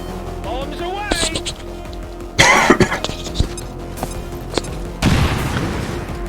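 A grenade explosion in XCOM 2 lands as a few sharp booms and bursts spread across the clip, mixed with other game sounds and a person talking.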